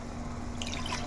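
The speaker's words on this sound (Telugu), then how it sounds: "మిక్సీలో వేసుకుని వాటర్ దాన్ని వేసుకుంటున్నాం." Water trickles and splashes into a mixer jar holding gongura leaves, a short, soft pour heard close up.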